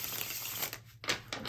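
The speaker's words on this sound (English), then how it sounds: "Give her one more good shuffle" Tarot cards being shuffled during a card reading, a soft papery riffling and rustling that swells and breaks off in short bursts, close and moderately loud, with no talking.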